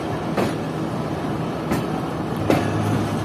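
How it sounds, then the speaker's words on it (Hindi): A passenger train pulls out of Sadiqabad railway station, a steady rolling rumble with a few sharp wheel clicks and brief squeals spaced through it. "8:02 पर ट्रेन डिपार्ट कर रही है सादकाबाद रेलवे स्टेशन से"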